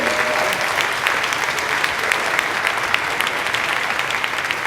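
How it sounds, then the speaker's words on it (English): A sustained round of applause from a live studio or event audience for a radio station carrying a reparations program, dense steady clapping throughout at even loudness with no talk over it. "we have to give a thunderous round of applause to WPFW for carrying this program."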